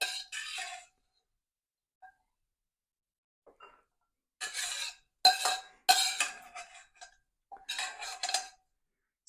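Cooked rigatoni all'Amatriciana is scooped out of an oily pan with a metal utensil, making a run of sharp scrapes and clinks in irregular bursts, with quiet pauses between them.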